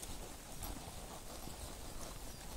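Horses' hooves clip-clopping steadily on the ground during a riding lesson, a continuous rhythmic patter heard at moderate distance against a broad, noisy background.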